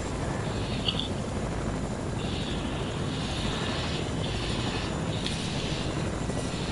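A steady, loud airplane engine drone in the Fortnite video game, heard as dense continuous roaring noise with no break or voices.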